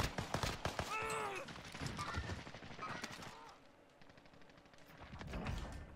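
Gunfire in the Warzone video game on Rebirth Island, sharp bursts of shots and rapid fire over game noise, with a voice speaking briefly among them.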